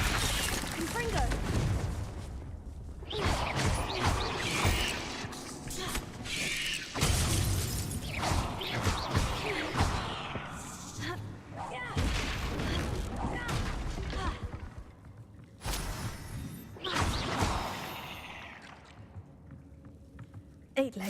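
Confringo blasting spells in Hogwarts Legacy: a string of loud, crashing bursts and shattering impacts spread across the stretch, with game music and someone talking between and over them.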